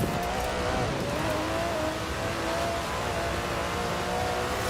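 An Aston Martin DB11's 5.2-litre twin-turbo V12 in Forza Horizon 4 holds a steady, loud engine drone with a thin whine above it, continuous and close throughout with no talking.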